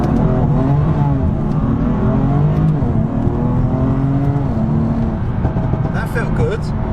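A BMW F80 M3 Competition pulls hard in a drag run, its engine note loud and sustained with rising pitch sweeps as it climbs through the gears, heard from inside the car.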